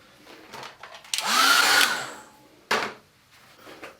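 A hair dryer blows close and loud for about a second on a wet watercolour sky painting, then cuts off; a second short burst follows, with quiet in between and no speech.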